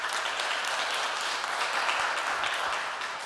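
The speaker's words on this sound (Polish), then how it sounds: "więc wielkie brawa" Applause from a gala audience at a Poznań business leadership awards ceremony, a dense, steady wash of many hands clapping that holds evenly throughout.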